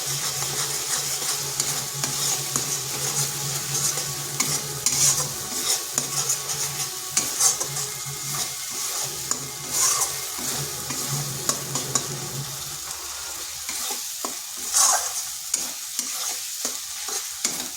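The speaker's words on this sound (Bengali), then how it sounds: "এর সমস্ত মশলা ভালো করে কষে নিচ্ছি।" Turmeric, cumin, coriander and Kashmiri chilli powder fry and sizzle in oil in a kadai, stirred steadily with a spatula scraping the pan; a continuous close sizzle with repeated stirring scrapes and no talking.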